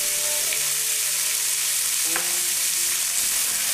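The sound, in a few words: flank steak browning with salt in a wok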